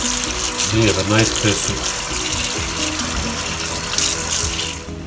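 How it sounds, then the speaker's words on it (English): Pork ribs are rinsed under a running tap in a sink, a steady gush of water splashing throughout while a person talks over it. "Wash it through thoroughly. Make sure all the scum or extra loose bone are all being washed up."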